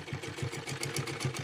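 A sewing machine stitches a Patiala salwar in a quick, even run of mechanical thumps, fairly quiet and close, with no voices over it.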